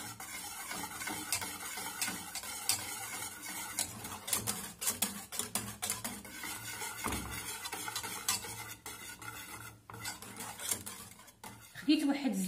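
A spoon stirs a date and natural yogurt dessert mixture in a pot, producing steady scraping and clinking against the sides with a continuous low hum behind it and a brief voice near the end.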